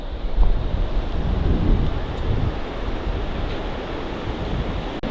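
Steady roar of surf and wind on the coast at Saint-Malo, Brittany, France, with rough, unsurfable waves, a continuous broadband wash with no distinct breaks, close and fairly loud.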